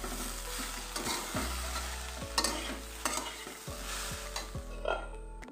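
Banana flower curry with fried peanuts is stirred in a pan over a soft sizzle, with a series of distinct scraping strokes of the spoon repeating roughly every second, close and clear.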